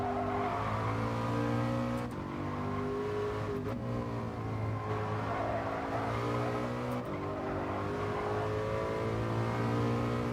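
Racing video game car engine revving hard and steadily, a strong harmonic drone that rises and falls through gear changes, with brief shift breaks and no talk over it.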